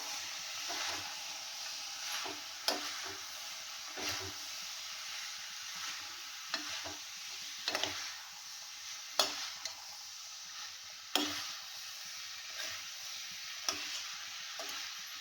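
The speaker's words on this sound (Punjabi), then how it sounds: "ਮਤਲਬ ਚੰਗੀ ਤਰ੍ਹਾਂ ਨਾਲ ਇਹਨੂੰ ਹਿਲਾਉਣਾ ਤਾਂ ਕਿ ਤੜਕਾ ਸਾਰਾ ਮਿਕਸ ਹੋ ਜਾਵੇ" Steady sizzling of mixed vegetables (potato, carrot, peas, cauliflower) frying in hot oil tempering, with a spoon repeatedly scraping and stirring the pan in irregular knocks.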